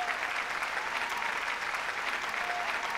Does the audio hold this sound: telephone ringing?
no